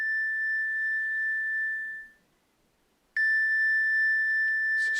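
A meditation bell rings with a pure sustained tone that fades to silence, then a second clear strike sounds and rings on steadily, close and resonant.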